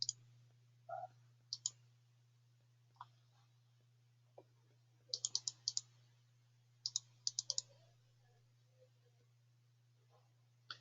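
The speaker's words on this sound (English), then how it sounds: "control and click the mouse wheel or scroll the mouse wheel" Sparse clicks from a computer mouse, single and in quick clusters of two to four, spread across a quiet room with a steady low hum beneath; faint and close.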